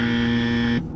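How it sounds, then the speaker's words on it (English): A wrong-answer buzzer sound effect, one loud flat droning tone held for most of a second and then cut off abruptly, leaving quiet afterward. "Incorrect buzzer sound."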